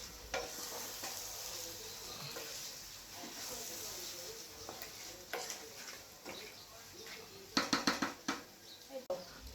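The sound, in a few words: marinated mutton stirred and sautéed in a pan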